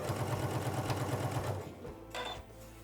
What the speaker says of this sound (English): So now that it's yellow, let's go ahead and start sewing.